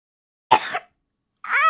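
A single sharp cough rings out close by, followed after a pause by a brief vocal sound.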